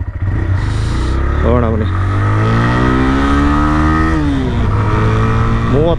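A TVS Raider motorcycle engine revs and pulls away, its rising and falling engine note loud and continuous throughout while someone speaks over it.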